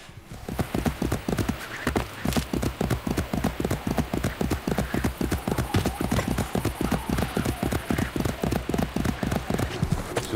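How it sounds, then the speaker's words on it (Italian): Rapid, steady clip-clop of a horse galloping in Assassin's Creed II fills the scene, close and loud with an even pounding rhythm throughout, a brief whinny and faint voices in the background. "per fortuna qua ci sono i cavalli che ci danno una grandissima mano per andare verso"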